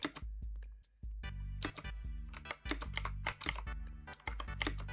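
Computer keyboard arrow keys are pressed while someone plays the game Eternal Towers of Hell. Key clicks come close and crisp in quick, irregular bursts, with brief pauses between them and no voices.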